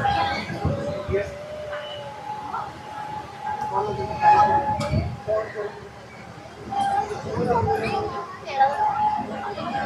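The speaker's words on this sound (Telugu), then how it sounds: "చూసారా, ఇది ట్రైన్" A train passes below Kailasagiri hill in Visakhapatnam, its rumble and a sustained tonal note running under almost continuous talking and some background chatter.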